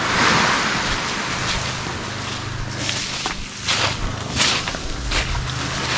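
Large flowing water rushes steadily and loudly, a dense wash with brief surges partway through and no voices.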